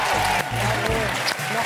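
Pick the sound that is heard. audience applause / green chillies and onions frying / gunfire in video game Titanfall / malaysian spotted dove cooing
audience applause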